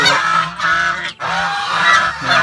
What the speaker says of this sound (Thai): ถ้าใครจะเลี้ยงห่านครับ ก็ต้องเลี้ยงไว้ไกลๆบ้านคนหน่อยนะครับ เนี่ยครับมันเสียงดังนะครับ